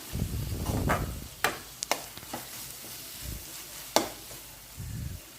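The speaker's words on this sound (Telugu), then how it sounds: "ఇప్పుడు తగినంత కారం వేస్తున్నాను మొత్తం అంతా మిక్స్ అయ్యేలా మిక్స్ చేసుకుందాం" A spoon stirs Maggi noodles with chilli powder in a pan, giving close, sharp scrapes and clacks against the metal over a soft, steady sizzle.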